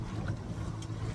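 A sailboat motoring on its inboard engine during a solo passage toward Rhodes emits a steady, close low drone with a faint wash of wind across the brief stretch.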